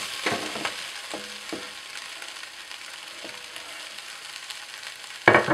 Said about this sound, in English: we'll get the fennel in so it can start to cook down as well